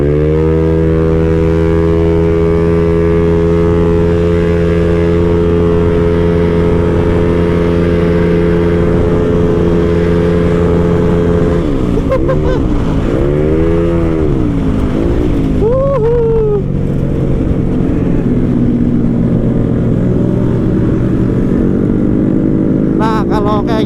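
A motorcycle engine runs loud and close as the bike is ridden early in the morning up a bumpy, uneven road. The steady drone swings up and down in pitch with the throttle.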